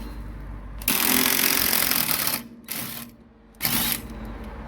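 A wrench loosens a bolt on a Honda Integra DC4, with one long, loud mechanical burst followed by two shorter bursts, close up and with no talking.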